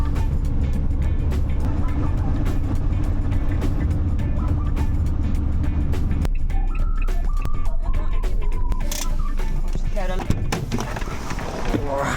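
A van without cruise control drives along the road, its steady engine and tyre drone filling the whole stretch, with voices heard over the constant rumble.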